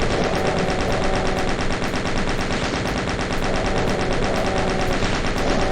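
Rapid weapon fire from the 1993 DOS game Doom rattles without pause, a loud dense stream of repeated gunshots filling the whole stretch.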